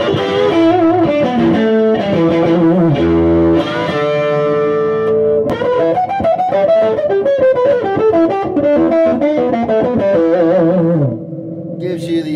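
A custom one-piece electric V guitar with a baritone switch is played through distortion and effects, sounding a loud, continuous run of sustained riffs and soloing phrases that drop to a lower, steadier tone near the end.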